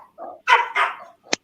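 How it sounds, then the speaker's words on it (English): A dog barks from upriver near a moored riverboat during an outing on the water, sounding as a few distant yelps and bark bursts spread across the moment, moderately loud and alone. "Hear that dog up there?"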